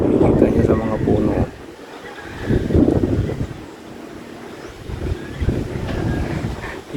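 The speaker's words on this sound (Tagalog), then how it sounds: "Lakas ang hangin." Strong wind gusts buffet the microphone and sweep through trees around a house whose roof was nearly torn off, a steady rushing roar rising and falling under a voice talking at intervals.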